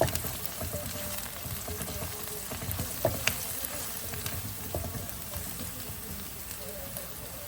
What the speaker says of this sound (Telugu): పచ్చిమిరపకాయలు, కొబ్బరి, కొంచెం నువ్వులు రుబ్బుకున్న పేస్ట్ ఇప్పుడు ఈ ఉల్లిపాయ ముక్కల్లో వేస్తున్నాను చూడండి. ఒకసారి శుభ్రంగా కలుపుదాం.